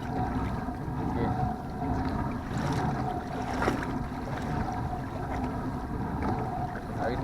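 Choppy sea waves and afternoon wind around a kayak at sea, a continuous rushing, sloshing wash with gusty buffeting on the microphone, steady and close throughout with no talking.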